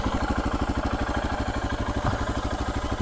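A Royal Enfield Himalayan motorcycle fitted with a Devil exhaust muffler idles alone and close by. Its exhaust note is a steady, even, low thumping pulse with a slight mechanical clatter over it, and nobody speaks.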